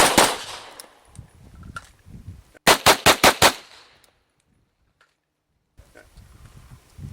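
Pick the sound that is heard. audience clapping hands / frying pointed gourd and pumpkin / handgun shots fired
handgun shots fired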